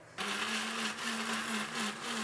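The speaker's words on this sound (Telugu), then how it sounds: "ఇప్పుడు మిక్సీ పట్టుకుందాము" A mixer grinder whirs loudly as it grinds tomato chutney for dosa, starting abruptly and running steadily with slight dips in pitch, close and alone.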